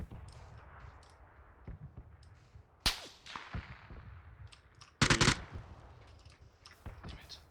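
Gunfire in the PUBG battle royale game: sharp, loud cracking shots, one isolated report and then a dense burst of rapid fire, set over low background rumble and faint game noise.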